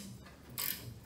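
A ratchet strap being released on a Swisher Rugged Cut 44 trail mower gives one short, quiet metallic click-rattle burst.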